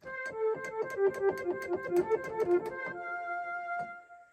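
A synthesized strings solo voice on a Technics AX7 electronic keyboard plays a quick melodic line of single notes, one at a time, ending on a held note that fades away.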